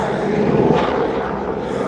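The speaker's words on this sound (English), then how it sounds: "Say hi to the chopper. They're real low." A helicopter flies low overhead, and its engine makes a steady, fairly loud rumbling drone that swells slightly and then holds, heard outdoors during work on bicycle pedals.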